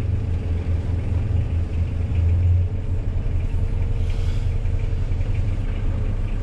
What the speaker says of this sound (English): so I've just started the engines, both of them